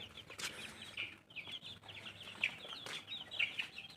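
Many small birds cheep and peep continuously in a busy chorus, with high chirps overlapping and a few louder calls standing out nearby.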